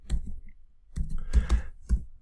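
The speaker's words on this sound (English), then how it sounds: "And then you just want to type in a prompt." Keys on a computer keyboard clack in a few quick clusters of close, crisp taps separated by brief pauses, as a prompt is typed.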